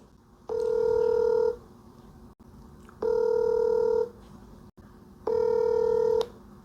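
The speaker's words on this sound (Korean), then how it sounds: "갑자기 전화하는 거기 때문에 이게 전화가 될지는 모르겠습니다만은" A phone call placed to NH Nonghyup Bank rings out three times, each a steady electronic ringback tone of about a second separated by pauses with faint background hum.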